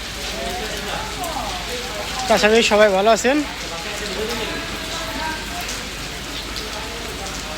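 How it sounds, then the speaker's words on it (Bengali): Steady rain falls on surfaces outdoors during an afternoon shower after hot weather, a continuous even hiss that carries on beneath a person speaking briefly over it. "প্রতিদিন পাঁচটা থেকে সর্বোচ্চ এক দেড় ঘন্টা বৃষ্টি নামে"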